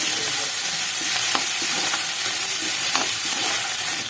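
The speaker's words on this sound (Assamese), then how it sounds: "কচুখিনি মই বইল কৰি লোৱা নাই, ডাইৰেক্ট তেলতে ভাজি তাৰ পৰা গৰম পানী দি দিম।" Taro pieces fry in hot oil with ginger and garlic, a loud, steady sizzle close up, broken by a few sharp clicks of stirring.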